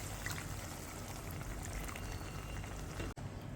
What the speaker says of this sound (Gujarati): હજી આપણે આની અંદર એક વાડકી જેટલું પાણી એડ કરી દઈશું